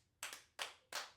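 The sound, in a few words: hand clap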